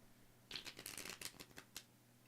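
Tarot cards riffled and bridged in a quick burst of crisp, fluttering slaps, close up, with a final snap before quiet.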